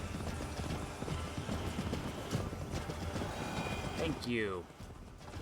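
Horse hooves clip-clopping at a quick pace in Assassin's Creed Valhalla, a steady rhythmic beat under game sounds with a brief spoken line.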